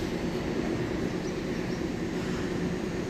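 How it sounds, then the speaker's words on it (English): Denver airport train pulls away from the station, a steady broadband rumble and rolling roar at moderate loudness with no pauses, no voices over it. "This train is departing."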